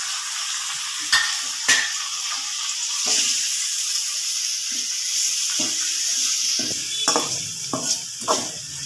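Tomatoes sauté with a steady, loud sizzle and hiss in a pan for a Tamil kulambu, broken by a few sharp clinks and scrapes of a stirring spoon against the pan, with no voice.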